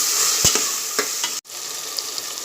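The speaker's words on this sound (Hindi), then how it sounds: "अब मैं इसमें टमाटर डालूंगी। अभी टमाटर गलने तक मैं इसे" Onions and tomatoes fry in a pan for mutton dal gosht, giving a steady close sizzle broken by a few stirring scrapes and a brief cut to silence before the frying resumes.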